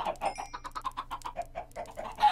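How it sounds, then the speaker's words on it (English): Chickens cluck in a video game, a steady run of short, rhythmic clucks roughly ten to the second, fairly close and clear over a faint low hum, with no talking. "I killed 11 chicken."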